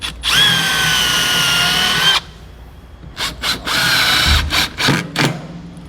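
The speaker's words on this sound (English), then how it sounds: "we're gonna just drill each one of those with a slight pilot hole" A power drill bores slight pilot holes while a Lippert SolidStep RV step is installed on a 2018 Forest River Flagstaff camper: one long, loud whining run, then several short bursts of the motor, close and with no talk.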